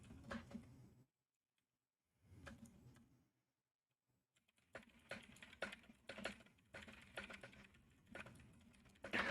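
Quiet, close clattering of keys on a computer keyboard comes in uneven bursts separated by brief silences, with no voices.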